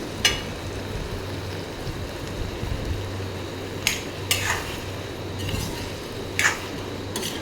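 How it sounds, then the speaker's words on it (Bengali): A fish head frying in a pan is stirred with a utensil, giving several sharp scraping clinks at irregular intervals over a low, steady background sizzle; no one speaks. "এদিকে আমি মাথাটা ফ্রাই করে নিচ্ছি।"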